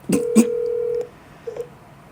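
Telephone keypad dialing tones followed by the call being picked up and hung up: a couple of short tone bursts, then a steady held tone, a quiet gap and one more brief tone near the end.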